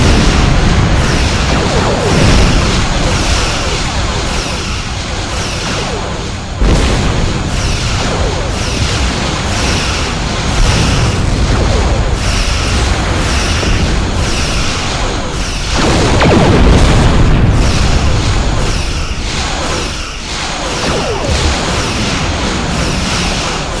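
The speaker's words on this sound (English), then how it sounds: "Put some distance between yourself and explosion." Starship explosions rumble through a Borg space battle as a loud, continuous broadband roar, with heavier bursts swelling near the start, around the middle and again toward the end, and no voices.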